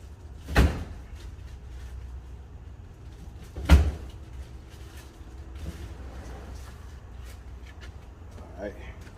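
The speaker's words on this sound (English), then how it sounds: "So I'm gonna open up the door now." A door on a 1983 Chevy Cutlass G-body with T-tops opens in a garage, giving two sharp clunks a few seconds apart over a low background hum.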